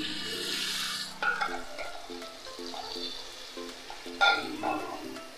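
Poppy seed paste goes into a pan of frying potatoes for doi potol. A soft sizzle runs under spoon scraping and stirring clatter, with a louder burst of stirring toward the end.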